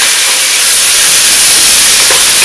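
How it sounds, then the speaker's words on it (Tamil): Two chopped tomatoes drop into sautéed onions in a hot pan for a Tamil tomato poriyal, setting off a loud, steady steamy hiss that fills the short moment. "இப்ப இதுல வந்து ரெண்டு தக்காளி அறுத்து வச்சது போட்டுக்கலாம்"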